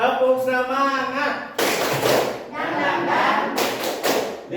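A classroom group performs the rhythmic tepuk semangat spirit clap in unison, loud, close bursts of clapping punctuated by sharp thumps, with a leader's voice calling out and the group chanting between the clap sections.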